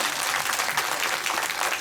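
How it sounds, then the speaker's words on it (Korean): An audience claps steadily throughout a movie talk event at a Megabox COEX Dolby Cinema screening, forming a dense wash of applause that fills the hall. "박수 부탁드립니다."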